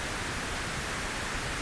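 Pink noise plays through a live sound system speaker, a dense, steady, even hiss filling the whole clip at a constant loud level with no other sounds.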